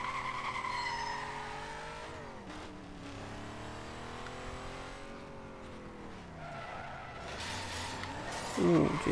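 A Ford GT in Need for Speed Most Wanted, its engine note sweeping up and down through gear changes and long tire squeals as it skids, with a brief burst of noise near the end.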